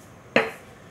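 Knife scoring the edges of rolled gluten-free dough for fig bar cookies, a single short scraping cut on the board, close and fairly crisp, then quiet.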